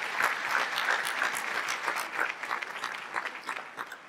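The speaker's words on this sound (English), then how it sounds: "How about a round of applause one more time?" An audience at an awards-style stage event breaks into sustained applause, a thick wash of many hands clapping at moderate distance that tapers off slightly toward the end.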